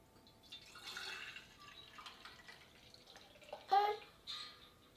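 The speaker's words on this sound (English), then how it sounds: "I'm using raw milk, and I'm going to put 2 quarts into my pot here." Raw milk from a local dairy poured into a cooking pot, a soft watery trickle and splash building unevenly with a louder burst near the end, fairly quiet in a home kitchen.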